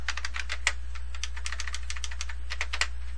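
Rapid, steady typing on a computer keyboard while entering a name in SolidWorks CAD software, a close, continuous run of keystrokes with a few sharper clicks and no talk.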